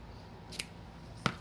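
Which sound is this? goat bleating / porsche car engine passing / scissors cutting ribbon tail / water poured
scissors cutting ribbon tail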